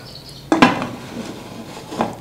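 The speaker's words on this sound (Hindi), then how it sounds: "अब इसको प्रेशर कुकर का जो है ना वो ढक्कन देते हैं" A metal lid is set onto a pressure cooker holding beef kabab, landing with a sharp clatter followed by a few lighter scrapes and a second softer knock. The sounds are close and heard alone.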